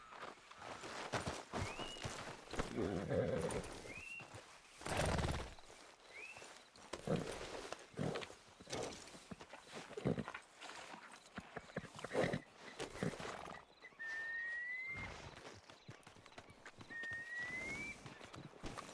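A horse in Red Dead Redemption 2 moving at a steady clip, hoofbeats continuous under outdoor ambience with faint bird calls and a brief low rumble, no talking.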